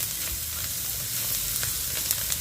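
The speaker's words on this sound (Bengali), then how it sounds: "আর একটু ভাজা হয়ে যাক," Egg and onions fry in a pan with a steady, close hiss and crackle, with a few faint stirring scrapes, and no voices, during a pasta preparation.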